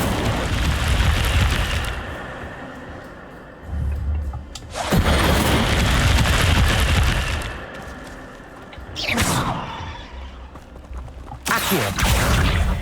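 Incendio fire spell cast in Hogwarts Legacy, loud roaring fire bursts with booming low rumble, several sharp whooshing blasts spaced a few seconds apart amid continuous game ambience.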